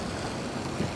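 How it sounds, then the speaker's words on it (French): Steady low engine drone from a boat at sea, a continuous broadband rumble with a watery wash and no pauses, heard alone for about a second. "J'entends un bruit de fond de moteur"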